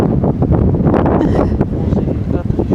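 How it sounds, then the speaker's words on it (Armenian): Strong, cold midwinter wind on a mountaintop buffets the microphone in a loud, continuous roar with gusty surges throughout. "Դե քանի որ քամին շատ է ու ցուրտ"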